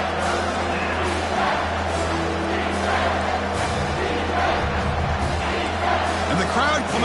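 A stadium crowd roars and cheers in the College Football 25 video game, a steady swelling wash of fans under a commentator's play-by-play.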